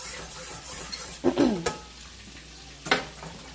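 Chicken wings frying on high heat give a low steady sizzle, broken by a few loud scraping stirs and a clink of utensil against the pan.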